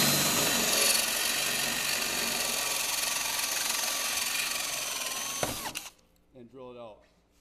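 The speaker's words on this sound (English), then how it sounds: "One way is to take the normal way that most people have, a 3/16 drill bit with the drill." A power drill fitted with a 3/16 bit bores out rivet heads while removing a BDX/SSI Ascender-Pro running board, a loud steady grinding whine held for several seconds before it cuts off and a voice briefly speaks.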